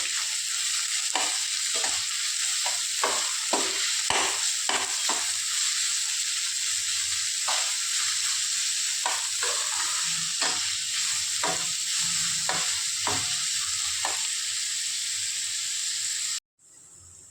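Sliced onions frying in a pan for crab masala: a loud, steady hiss of oil under repeated spatula scrapes and stirs at an uneven rhythm, close up, cutting off abruptly near the end.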